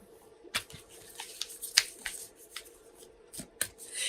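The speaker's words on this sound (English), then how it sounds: "And now I'm shuffling our Sacred Traveler Oracle cards" Sacred Traveler Oracle cards are shuffled by hand, giving soft irregular riffling slaps and flicks at close range in a quiet room.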